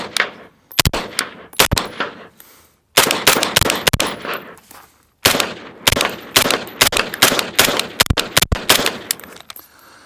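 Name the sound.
suppressed rifle gunfire with Silencer Co Velos K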